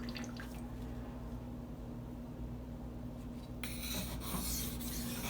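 Spyderco Native 5 knife blade rubbed across a Gritomatic silicon carbide sharpening stone, a continuous close gritty rasping with a sharper, brighter scraping burst near the end.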